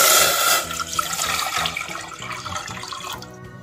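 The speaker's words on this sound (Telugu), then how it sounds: "ఒక 3 గ్లాసులు నీళ్ళు వేసుకుందాం." Water pouring into a mixer jar holding raw mango pulp, a steady splashing gush that is loud at first and then settles into a continuous trickle, with no speech.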